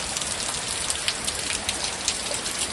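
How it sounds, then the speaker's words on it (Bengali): Heavy rain pours down under a dark, cloud-covered sky, a dense, steady hiss of drops on surfaces that stays loud and unbroken throughout, with no voices. "আর এখন দেখো বর্ষা হচ্ছে, প্রচুর বর্ষা হচ্ছে, প্রচুর বর্ষা হচ্ছে"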